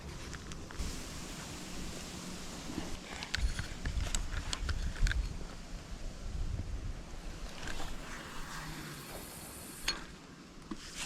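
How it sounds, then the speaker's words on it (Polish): Steady gusting wind buffets the microphone outdoors, with a continuous rumbling roar and scattered knocks, and water lapping faintly underneath. "Jest silny wiatr"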